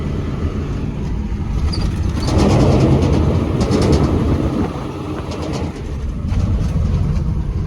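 A KamAZ truck drives along a dry, dusty farm road toward a field at harvest time, its engine a steady low rumble that swells in the middle, with faint birds chirping in the background.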